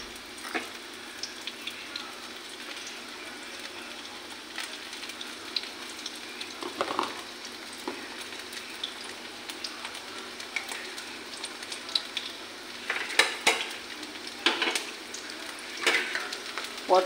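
Pointed gourd flower fritters frying in a pan, a soft steady sizzle broken by sharp crackles and pops that grow busier toward the end, with occasional stirring clatter.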